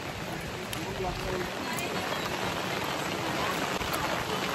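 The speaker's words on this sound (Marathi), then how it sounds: "पण जाम पाऊस आले." Heavy rain pours down at a temple in Ganpatipule, a dense, loud and unbroken hiss of drops hammering surfaces, with people talking faintly beneath the downpour.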